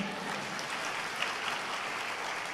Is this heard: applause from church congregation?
yes